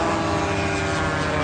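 An unknown military attack drone flies overhead with a loud, steady, droning engine roar and no break or change in pitch, and no voices.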